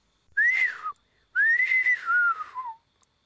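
Two sharp, sliding whistles, a short one and then a longer one that dips at the end, sounding like a birdcall imitated by mouth.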